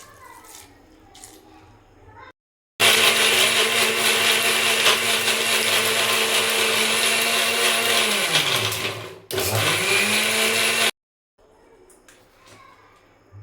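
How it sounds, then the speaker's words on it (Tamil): A mixer grinder jar whirs loudly as it grinds cinnamon, cloves and fennel with a little water, running in two bursts with a brief pause and a pitch drop between, quiet room sounds before and after. "அப்படியே நம்ம மிக்சி ஜாரில் போட்டு அடிக்கிறது தான்"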